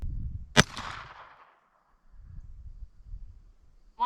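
A Browning Buck Mark Contour pistol firing URX ammunition: one sharp, loud gunshot that rings out briefly, with low handling noise and rustle before and after and a faint click near the end.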